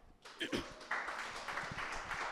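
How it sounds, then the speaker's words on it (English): Applause from an audience at a wellness conference talk, a burst of many hands clapping that swells quickly and holds steady, with a voice briefly audible underneath. "So round of applause for y'all."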